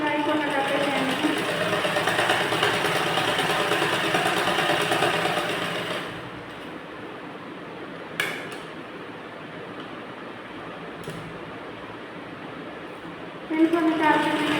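A sewing machine stitching a blouse, running steadily and fairly close for about six seconds, then stopping, with quiet handling sounds and a few sharp taps afterward.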